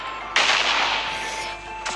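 A sudden loud bomb blast in Minecraft bursts in and decays into a broad roaring hiss over about a second, followed by a smaller sharp crack at the end.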